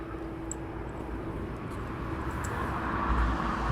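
An aircraft at East Midlands Airport gives a steady broadband engine roar that swells gradually louder, heard from a distance with no voices.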